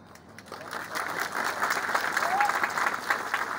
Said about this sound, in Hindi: आपको सिर्फ 35 लाख दिया, आप लोग ताली मार रहे हैं।